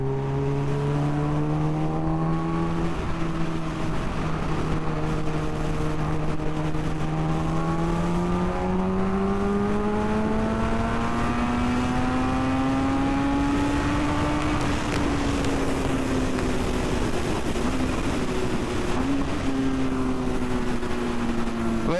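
Kawasaki Ninja H2 Carbon supercharged motorcycle heard while riding on the road, its engine a loud, continuous whine that climbs and falls in pitch through gear changes and throttle swells, with wind noise throughout.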